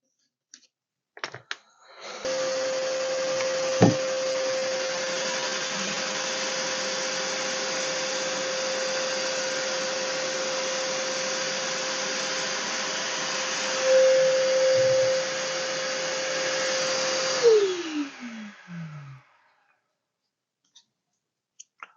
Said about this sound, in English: we're going to drill up here.